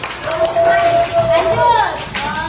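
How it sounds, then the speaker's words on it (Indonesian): Children in a primary school classroom clapping together for a classmate, a steady burst of applause close by with a voice speaking over it. "Tepuk tangan buat temennya."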